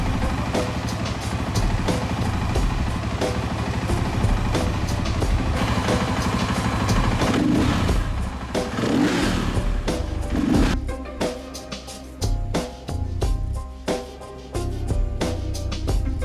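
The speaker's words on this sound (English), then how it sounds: "Let the bike warm up for about 2 to 3 minutes." A dirt bike fitted with a Rekluse EXP hydraulic clutch idles while warming up, a steady loud close engine drone with a few uneven throttle dips and surges near the end, no talk.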